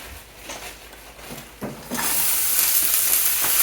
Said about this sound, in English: I'm going to be using some of the bacon grease to saute some of the onions that I have here